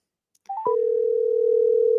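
A telephone picks up with a click and a few rising beeps, then a steady, loud continuous dial tone holds to the end.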